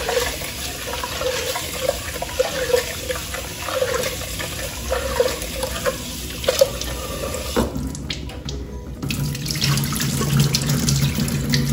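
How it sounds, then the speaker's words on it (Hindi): Moong and masoor lentils being washed in water, with a steady tap running and water splashing and swirling in a container, loud and close, shifting to a fuller pour near the end. "तो हम इसको अच्छे से धोना पड़ता है। तीन चार बार आप अच्छे से धोए।"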